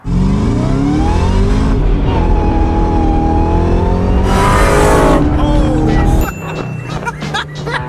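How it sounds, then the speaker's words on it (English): A Ford Mustang SVT Cobra Terminator engine revs hard and holds a loud, rising howl, then drops off suddenly near the end as the throttle is released. "I want to hear the engine in the audio"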